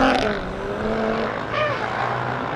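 A drift car races at Hampton Downs, its engine held flat out in a loud, close roar that rises and shifts pitch as it finishes a section, with faint commentary underneath.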